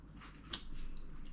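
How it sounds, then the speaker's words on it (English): Close, quiet chewing of crunchy homemade potato salad with celery, onion and sweet relish, a single sharp crunch followed by soft mouth sounds over a low background hum. "You can taste the crunchiness of the celery and the onion, the sweet relish."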